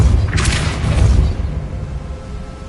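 The Depulso spell in a Hogwarts video game goes off as a single deep, rumbling blast that fades out over a couple of seconds.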